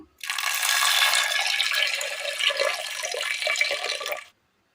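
Water runs steadily into a pot of green gram and green chilli for about four seconds, a continuous splashing gush that stops abruptly.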